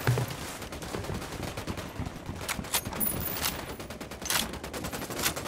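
Heavy gunfire in the tactical shooter Ghost Recon Wildlands, dense rapid automatic bursts and overlapping shots rattling steadily throughout at moderate distance.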